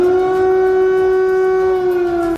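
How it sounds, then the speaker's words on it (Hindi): An air raid warning siren wails over Kyiv, one steady sustained tone that holds loud and level for over two seconds before cutting off abruptly. "कीव में लगातार खतरे के सायरन बजने शुरू"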